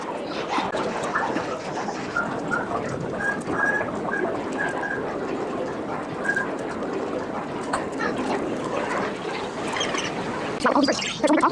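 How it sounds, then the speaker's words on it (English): A crowd of pigeons and other birds coos and chirps in a steady, busy chorus at close range, with short repeated calls throughout and a louder flutter of sound near the end. "Look at all these birds."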